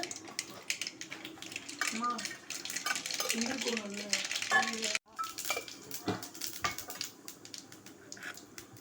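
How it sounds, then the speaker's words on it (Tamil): Mustard seeds and urad dal crackle and sizzle in two ladles of hot oil, with scattered pops and utensil clinks over a moderate, uneven frying hiss. "அதில் 2 கரண்டி எண்ணெய் ஊற்றியாச்சு. கடுகு, உளுந்தம்பருப்பு,"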